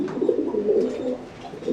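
King pigeons in a pair cooing in a cage, a steady low throaty coo rolling continuously from close by, with no talk over it.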